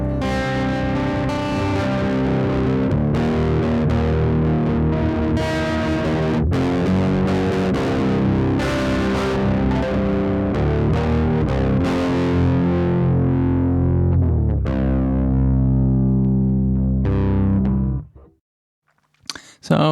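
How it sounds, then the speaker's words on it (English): An electric guitar plays through a Hotone Heart Attack pedal set to flat EQ and no gain, giving a slightly overdriven tone. Dense, sustained chords and notes ring loud and continuous for about seventeen seconds, then stop abruptly. "You can hear it sounds slightly overdriven still."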